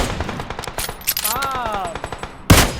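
Gunfire in PUBG Mobile during a competitive qualifier match: a rapid string of sharp shots, a brief voice midway, then one loud, heavy sniper-rifle blast at the end.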